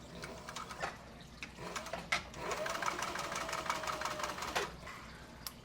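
A sewing machine stitches Italian leather for a money envelope, whirring steadily and close at low volume with a few light clicks.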